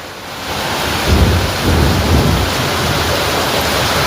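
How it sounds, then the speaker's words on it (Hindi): Steady rain pours over a village during a thunderstorm, a loud, close, continuous hiss with low rumbling swells of distant thunder. "ठंड लग रही है, बारिश होने लगी है, बूंदी गिर रही है"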